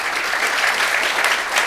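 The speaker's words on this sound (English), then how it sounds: "Can we give them all a round of applause?" Loud, dense applause from a conference audience after a panel on data-driven medicine and the NHS, a short, full burst of many hands clapping close by.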